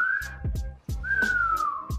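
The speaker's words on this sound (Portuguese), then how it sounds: "Minha cachorra aqui se atentou agora ao assobio" A person whistles a short melodic tune, with sustained, clear notes sliding in pitch. Low thumps and background knocks sit underneath. No one speaks.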